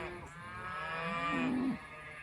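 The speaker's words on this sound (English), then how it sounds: "can you hear the cows?" Cattle on a farm give a single drawn-out moo that rises and then falls, heard clearly at moderate distance over quiet rural background.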